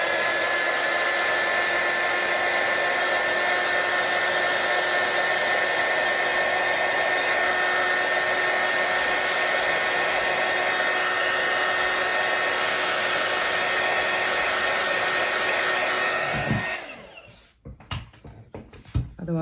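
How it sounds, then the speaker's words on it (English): A heat tool blows a steady, loud, high whirring stream of hot air to dry stamped ink on a handmade card, running continuously before clicking off near the end, leaving a few handling noises. "I'm going to heat set it and just give it a little dry"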